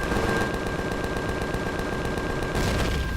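Enemy gunfire raking a ship in the Empyrion space game, a continuous rapid rattle of shots with a steady electronic tone underneath and a louder burst near the end.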